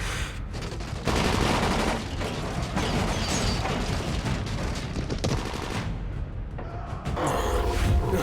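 Gunfire in the video game Dying Light, dense sustained bursts of automatic shots and booming blasts filling the whole stretch, loud and continuous with brief dips, no talk.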